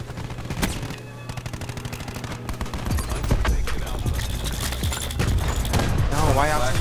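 Rapid automatic gunfire rattles through a Call of Duty multiplayer match, steady volleys of close shots, growing louder and denser partway through, with bursts of other game effects.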